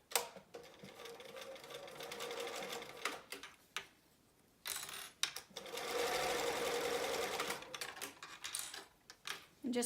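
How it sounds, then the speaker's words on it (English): A sewing machine runs in rapid stitching bursts, stopping briefly and starting again, with quiet talk faintly underneath. "I'm gonna take this to the sewing machine and stitch this edge closed"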